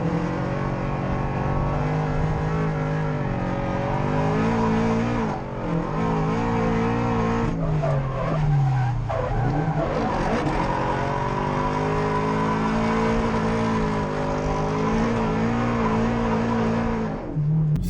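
The Torque Drift Subaru BRZ drift car skids at a Vic Drift competition round, with a loud, sustained engine roar that wavers through revs and bursts of tire squeal, close and continuous.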